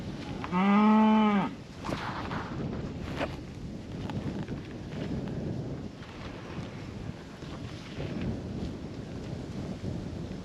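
A single loud, close cow moo with a clear harmonic tone lasts about a second near the start of heifer sorting on a farm, followed by rustling and outdoor background noise.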